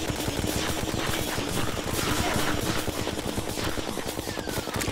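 Fast, steady streams of gunfire from bullets in Terraria form a rapid machine-gun-like rattle that keeps going without a break, loud and close, with game effects layered over it.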